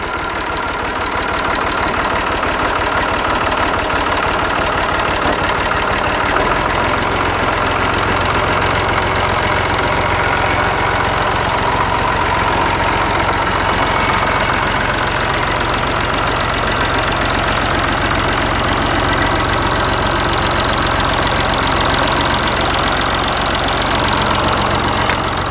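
A tractor engine runs steadily and loudly up close, a continuous mechanical rumble with a faint knocking rhythm and no voices.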